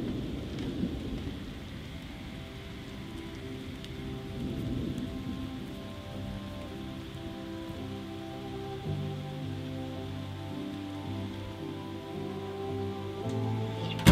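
Thunderstorm at a rainforest cabin in springtime Australia, with rain falling steadily on surfaces and low rumbling thunder rolling through, constant moderate hiss over deep booming swells across the whole stretch.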